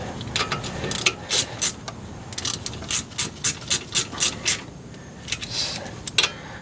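A ratchet wrench snugging the bolts on a BMW E36 front brake caliper: a steady run of about a dozen quick, close rasping clicks in evenly spaced bursts, with short pauses before and after, no talking.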